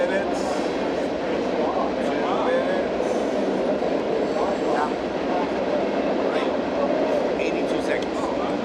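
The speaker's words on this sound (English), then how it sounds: "How long is the train?" A long train rolls past with a loud, steady roar of wheels and rumble that holds for the whole stretch, while people talk over it.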